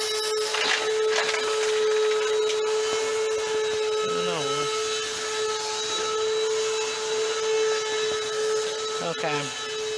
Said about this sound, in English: So my brother's vacuuming.